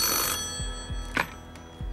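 A telephone rings on a game show set with a clear electronic bell tone over a steady hum, joined by faint low thumps.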